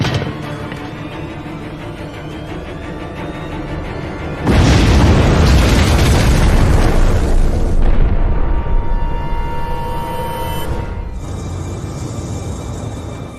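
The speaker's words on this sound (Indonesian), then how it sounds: "ia pun meledakkan sebuah granat" A grenade detonates in a zombie film, a sudden heavy boom after a quieter stretch, followed by a long rolling rumble that decays over several seconds.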